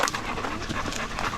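A large dog pants quickly and rhythmically close by on a hiking trail near Clear Water Bay, a breathy huffing with no talk.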